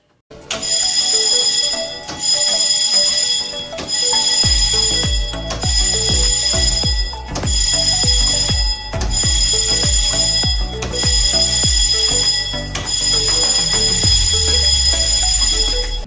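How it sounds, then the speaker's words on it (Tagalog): A ship's general alarm bell rings loudly and continuously during an engine room fire emergency, in a rapid metallic clangor that pulses in repeated bursts of about two seconds each with no speech. "Sound the general alarm and confirm the situation on the engine room immediately."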